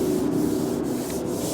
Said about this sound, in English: scuffed it down, 80 grit